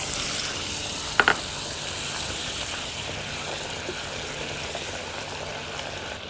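Butter hitting melting sugar in a pan, a broad steady sizzle with a couple of sharp clicks early on, then an even hiss, close and without talk.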